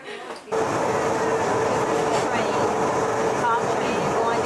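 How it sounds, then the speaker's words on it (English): Train descending Mount Pilatus, a loud steady rumble and rolling hum that starts abruptly and holds constant, with a faint high squeal partway through. "Top train going down Mount Pilatus."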